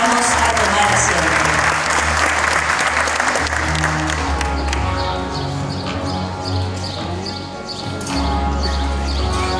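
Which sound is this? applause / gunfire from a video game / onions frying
applause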